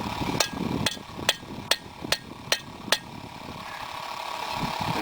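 A hammer forges a meat hook on an unmounted anvil, seven sharp ringing strikes falling in a steady even rhythm, then stopping, with low background noise behind them.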